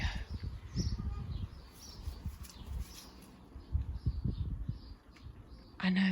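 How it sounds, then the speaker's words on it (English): Birds chirp and coo near a building site where construction work is going on, light tweets mixed with background clatter and a voice speaking briefly. "just listen to those birds. It's lovely."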